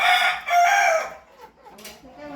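An imported Peruvian fighting rooster on a cockfighting farm crows once, loud and close, the call trailing off into quieter clucking and farm background.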